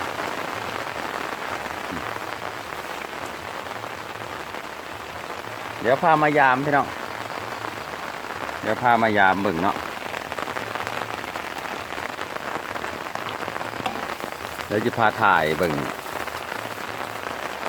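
Heavy rain pattering steadily on a surface throughout, with someone talking briefly over it three times.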